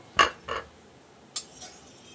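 Fried fritters lifted from a pan and set onto a napkin, giving two quick clinks of a utensil close by, then a sharper tap after a short pause and a faint scrape, with no talking.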